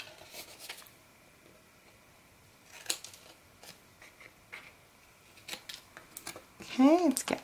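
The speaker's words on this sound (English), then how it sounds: "I'm just going to trim a tiny smidgen at an angle off the corners here." Scissors snipping small angled corners off paper card pieces, a few crisp close cuts and light paper rustles spread across quiet moments, with a louder rustle near the end.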